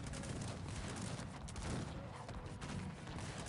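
Prussian musketeers firing in the Cossacks 3 battle game, a dense, continuous roar of massed musket volleys and battle noise that stays loud and steady throughout.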